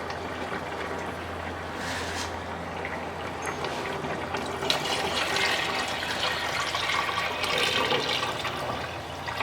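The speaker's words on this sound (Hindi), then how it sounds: "अब हम इसमें 4 गिलास पानी डाल देंगे।" Water is poured into a pot of cooking mutton for pulao, a continuous splashing and gushing stream that swells slightly midway and runs steadily for several seconds without talk.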